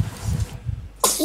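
A single sharp sneeze bursts out close to the mic over low game sounds in a Ghost Recon Wildlands session, followed by a voice.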